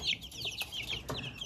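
A small crossbreed chick hatched from a silkie hen's egg peeps softly in short, high chirps, close by and faint, with no other sound around it.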